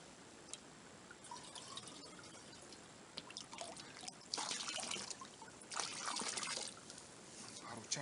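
Fresh water from a narrow stream about one and a half meters wide trickles and splashes into a container during collection, with close bursts of gurgling pouring and dripping, quiet but clear.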